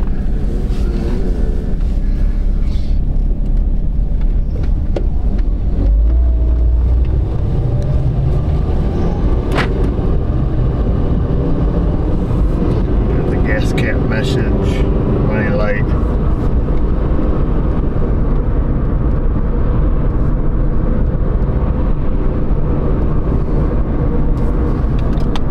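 A Dodge Avenger with a suspected bad wheel bearing is driven on a road. A steady low cabin rumble of tires and engine carries on throughout, with some faint talk underneath.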